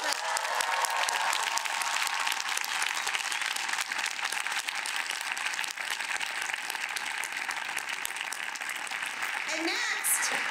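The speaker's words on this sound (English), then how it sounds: "Let's all applaud them." An audience at a college ceremony breaks into sustained, dense applause, many hands clapping steadily at moderate distance for the whole stretch, with faint voices mixed into the crowd noise.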